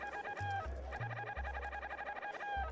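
Chicken clucking in the game Secret of Evermore: a chirpy, synthesized rhythmic cackle repeated in quick bursts over a low, buzzy bass line, close and steady.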